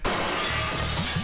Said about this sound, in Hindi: देख तेरे लड़के ने फिर से मेरे घर का कांच तोड़ दिया।